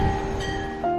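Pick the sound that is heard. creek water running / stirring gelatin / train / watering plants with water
train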